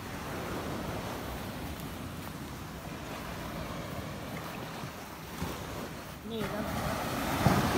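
Steady broadband roar of surf washing onto the shore, continuous and fairly loud, with people's voices faintly mixed in toward the end.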